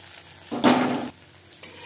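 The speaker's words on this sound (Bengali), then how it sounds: "ক্রিস্পি করে ভেজে নেব।" Sliced bitter gourd frying crisp in oil over a medium flame: a sudden loud sizzle lasting about half a second, then a quieter hiss with a brief clink near the end.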